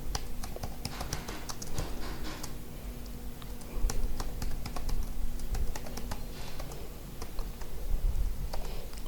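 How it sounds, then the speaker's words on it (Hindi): Someone types a password on a computer keyboard, with rapid, close key clicks tapping in irregular bursts over faint background hum. "मैं दोबारा टाइप कर देता हूँ"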